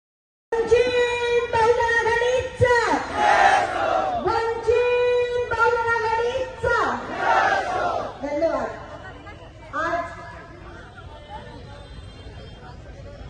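At a Phule-Shahu-Ambedkarite rally for the Vanchit Bahujan Aghadi in Hingoli, a large crowd shouts and chants slogans in loud, repeated bursts that fade into a murmur near the end.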